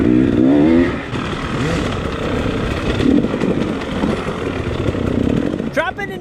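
A dirt bike revs on a Kentucky hard enduro trail at the 2019 Saddleback Xtreme, its buzzing, rising engine snarl carrying over rough outdoor noise throughout and swelling again near the end.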